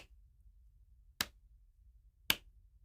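Two sharp hand claps in a quiet room, about a second apart, each a crisp isolated crack.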